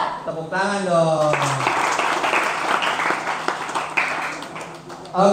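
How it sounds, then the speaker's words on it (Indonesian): At an Islamic students' seminar, the audience breaks into lively applause after a voice calls out. The clapping is dense and fairly loud, runs several seconds, and then fades as talking resumes at the end. "Tepuk tangan dong."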